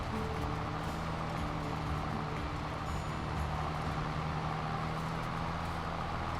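A John Deere 6R tractor driving in a farming video game, giving a steady, droning engine rumble with constant low hum and no talking over it.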